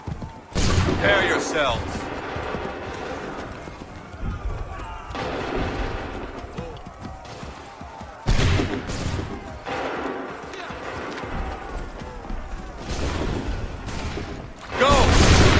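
Musket volleys from ranks of soldiers during the Lexington battle in Assassin's Creed 3, with loud crackling bursts repeating across the scene amid constant battle noise and shouted voices.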